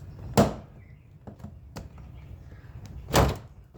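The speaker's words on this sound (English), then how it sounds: "Starting at the bottom, insert the trim removal tool and gently pry outward. You will hear the clips popping out." Plastic clips on a Honda Civic door panel popping loose as a trim removal tool pries the panel outward: two sharp, loud snaps with a few lighter clicks between them, close up, with no talking.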